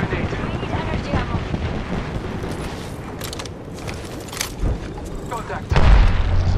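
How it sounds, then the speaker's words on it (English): A grenade in Apex Legends goes off as a deep boom near the end, rising out of busy gameplay noise of footsteps and scuffling. "Grenade."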